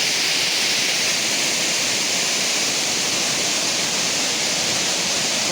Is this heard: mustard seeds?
no